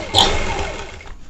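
Sewing machine stitching a blouse collar with a quarter-inch seam gap, a brief close whirring burst of the motor and needle that starts abruptly and fades within about a second.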